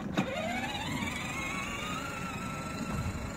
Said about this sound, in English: It is a power wheel.